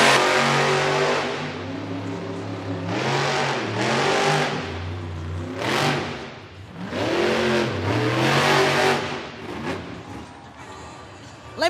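Monster truck engine at a Monster Jam arena event revs hard several times in long rising and falling roars, loud and close, with crowd noise underneath.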